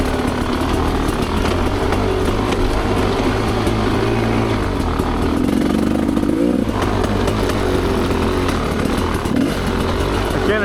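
A Rieju Ranger motorcycle climbs a hill on a sandy single-track trail, its engine loud and close, pitch rising and falling as the throttle works, with a brief strained surge midway.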